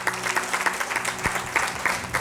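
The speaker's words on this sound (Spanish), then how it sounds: "Dele fuerte aplauso al Señor" A church congregation applauds with steady, fairly loud clapping that runs the whole time, a few voices mixed in.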